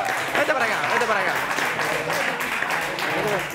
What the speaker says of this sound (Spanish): un aplauso para Becker, por favor